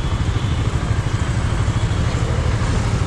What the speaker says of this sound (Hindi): तो फाइनली बाइक हो चुकी है स्टार्ट